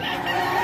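A rooster crows loud and close at a chicken market in Padre Garcia, Batangas, a short sustained call heard alone.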